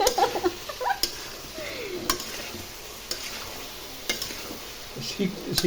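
Aloo dum, a potato curry, cooks in a pan while a spoon stirs through it, giving soft scraping and a low sizzle with a few sharp clinks against the metal, close by and steady over faint background noise.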